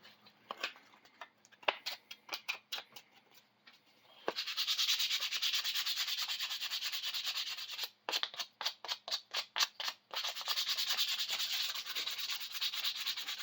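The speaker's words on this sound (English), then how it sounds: "Now I'm going to start going over it with just some sandpaper and fine tuning it" Sandpaper rubbed by hand over a wooden topwater striped bass plug: short separate scratchy strokes at first, then a long steady continuous sanding rasp, a pause, quick rhythmic strokes, and steady sanding again, close and fairly loud with no talking.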